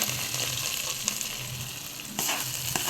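A fried tempering hits ven pongal with a loud, continuous sizzle and bubbling close by, swelling briefly near the end, with no voices.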